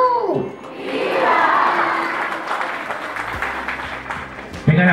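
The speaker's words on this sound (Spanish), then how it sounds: "Venga, las palmas, por favor" An audience claps and cheers at a graduation ceremony in Peru, a sustained wash of applause with shouts, while a voice speaks over it near the start and again at the end.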